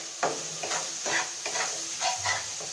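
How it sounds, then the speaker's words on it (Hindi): Ground spices, coriander among them, being stirred into fried goat brain masala in a pan, with repeated scraping strokes of a spoon roughly every half second over a steady soft sizzle. "ऐसे अच्छी तरह हिला दें।"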